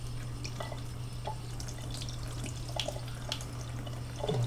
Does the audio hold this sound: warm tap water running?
yes